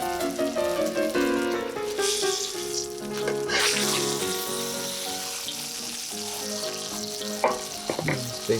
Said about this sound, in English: Make sure you sear out that back half as well